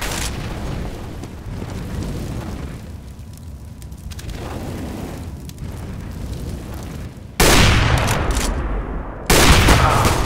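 Grenade and incendiary blasts crash over gunfire in Counter-Strike: Global Offensive. Dense, rolling explosive bursts build to two loud, sudden booms late in the passage, with no talk.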